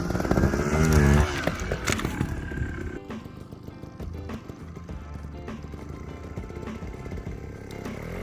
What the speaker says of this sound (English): So engine revving up and then popping that clutch.